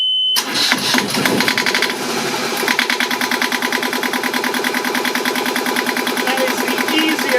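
A Yanmar marine diesel engine cranks briefly, then catches and settles into a loud, steady, rhythmic chugging idle close by.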